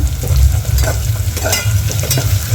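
Loud, steady sizzling of coriander leaves hitting hot tempering oil, crackling continuously with spatters and stirring throughout, while making masale bhat.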